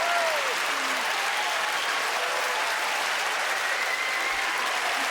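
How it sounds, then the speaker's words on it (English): A stand-up comedy audience claps in a thick, sustained roar of many hands that holds at an even level for the whole stretch, with no voices over it. "I like how she just stands there when they clap"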